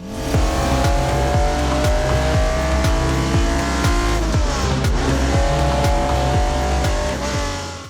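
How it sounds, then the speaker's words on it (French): A Ferrari 250 GTO V12 engine roars loudly with repeated upshifts, its pitch climbing and dropping as the race car accelerates hard. "Le son que vous venez d'entendre, c'est celui du V12 de la 250 GTO"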